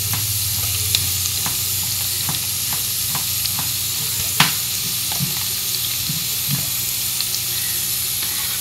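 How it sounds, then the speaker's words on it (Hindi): Chopped garlic sizzles in hot oil in a pan, a steady frying hiss with occasional stirring scrapes and clicks, close and continuous with no voices. "एका पॅनान थोडीशी ऑयल घायल्या आनी थोडोसो तितून घाता गार्लीक चॉप केलेलो बारीक"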